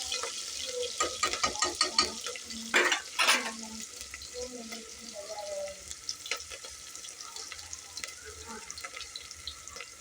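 Food frying in a pan for an egg biryani, with a continuous sizzle broken by clattering stirring scrapes and a short burst of louder spattering near the middle; no speech.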